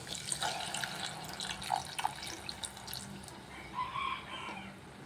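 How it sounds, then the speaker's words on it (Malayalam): Water poured into a cooking pot to boil green chilli and vegetables for Kerala kalan gives a steady splashing through the whole stretch, with bird calls faintly in the background. "ഇനി നമുക്കിത് വേകാനായിട്ട് ആവശ്യത്തിനുള്ള വെള്ളം ഒഴിച്ച് കൊടുക്കാം"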